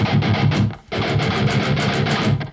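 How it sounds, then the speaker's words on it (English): Distorted electric guitar played with percussive left-hand muting for a riff: choppy, pitchless chugging strums in a fast, steady rhythm, loud and close with a brief gap near the start, no talking. "So the first one that I can think of is percussive left hand muting."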